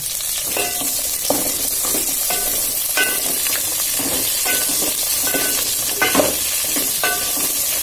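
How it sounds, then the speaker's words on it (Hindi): Cumin and cauliflower fry in hot oil on low heat for vegetable biryani, a steady close sizzle broken every second or so by scraping stirs of a spoon against the pan. "तब तक हम भूनते रहेंगे जब तक कि गोभी लाल ना हो जाए"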